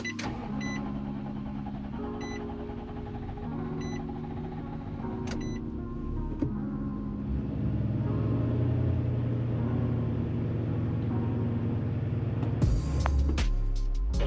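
A 2019 Nissan Titan with a fault code has its engine started: a few clicks and a whirring crank, then a steady low idle rumble close by, ending in a burst of louder mechanical noise.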